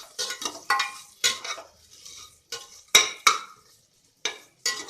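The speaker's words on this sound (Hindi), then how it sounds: "वर्मिसेली को अब इसमें हम अच्छे से मिक्स कर लेंगे।" Vermicelli is stirred and roasted in a pan, heard as a run of separate short scraping strokes with brief pauses between them, close up and with no voices.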